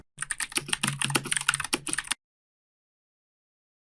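A product name is typed on a computer keyboard in accounting software: about two seconds of quick, close keystrokes clicking in a fast, uneven rhythm, then silence.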